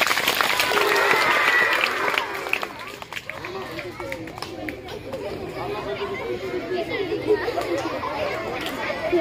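A school audience of children at a magic show claps and cheers in a dense burst that fades into lively chatter and scattered claps, with voices mixed throughout.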